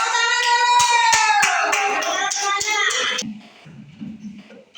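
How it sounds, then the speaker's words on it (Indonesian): Children in a classroom chant in unison with sharp rhythmic hand claps, the chant and claps stopping abruptly partway through, leaving faint room noise. "Tepuk tangan dulu."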